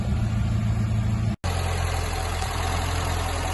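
Sunbeam Rapier Fastback engine running steadily at close range, a low rumbling idle with a regular pulsing beat, briefly cut by a short gap before resuming.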